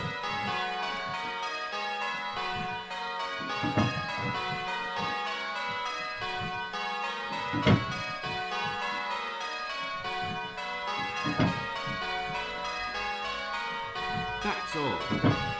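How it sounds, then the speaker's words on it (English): Church bells rung in rounds on a bell simulator, a dense, continuous stream of overlapping bell strikes with steady rhythmic accents, loud and sustained throughout with no talking. "in rounds it's very easy to hear the bell"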